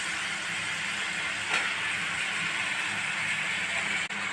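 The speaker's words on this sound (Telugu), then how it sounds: "అరటికాయ ముక్కలు వేసేస్తున్నానండి" Raw banana pieces go into a hot pan with cooked onion, green chili and paste, a loud, steady frying hiss and sizzle that holds throughout, with no voices over it.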